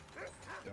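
Puppies in the Skyrim video game give two or three quick, high yips in under a second, close and clear.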